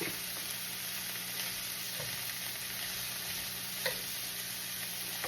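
Chili frying in oil with leftover chicken gives a steady, soft sizzle throughout, with a few light clinks of stirring.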